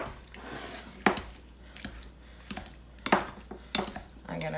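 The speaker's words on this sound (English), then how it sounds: "Now I have all of these egg whites and I'm going to take that pastry cutter." A pastry cutter chops cooked egg whites for a deviled-egg-style cauliflower salad, making several sharp, close metallic clacks and knocks at an irregular pace, with no talking.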